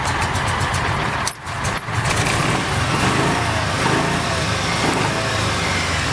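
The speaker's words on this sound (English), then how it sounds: "they're very quiet when they're running, so it's just sitting here idling now" A 2007 Kawasaki Mule 3010 4x4 utility vehicle in Woodsman Green sits idling, giving a steady, quiet low engine hum close by with two brief dips near the start.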